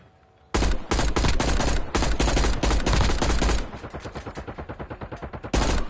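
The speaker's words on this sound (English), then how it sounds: "I'm gonna go nail gun on him." A nail gun fires in Call of Duty Warzone, loud rapid-fire bursts in a long sustained stream, with tighter, lighter pops toward the end before a final heavy burst.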